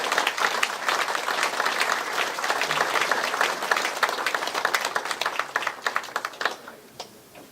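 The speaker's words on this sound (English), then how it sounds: "Let's give them all a big round of applause." A crowd at a World Concertina Congress induction ceremony applauds steadily, with dense overlapping claps that hold for several seconds and then thin out and fade toward the end.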